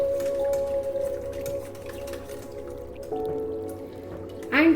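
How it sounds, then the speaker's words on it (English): Boiled, cooled milk poured slowly into ice apple kheer, a continuous liquid trickle with a gurgling, tonal ring that shifts partway through and ends in a brief louder splash, heard close with no voices. "And lastly, we add 2 cups of milk slowly."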